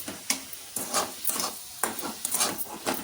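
A spoon stirs a coconut laddu mixture with cardamom powder in a pan, producing repeated close scraping and rasping strokes in an uneven rhythm, with no talk over it.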